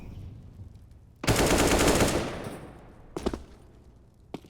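AK rifle fire in a Counter-Strike match on Mirage, a loud rapid burst lasting about a second, then a few quicker shots and one faint crack, with no voices over it.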